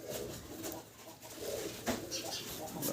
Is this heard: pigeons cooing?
yes